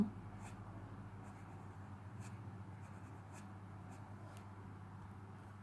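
A pencil sketches a human face on paper, its soft, steady scratching strokes going on without a break, quiet and close over a low background hum.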